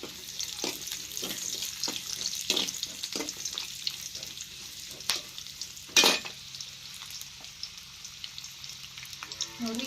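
Green chillies dropped into hot oil for biryani, a close continuous sizzle broken by regular stirring taps and one loud burst of spatter.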